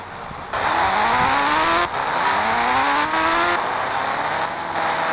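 A motorbike engine in the Indian Bike Driving 3D game revs up again and again, its pitch climbing in several loud sweeps that drop and rise once more, with no voices over it.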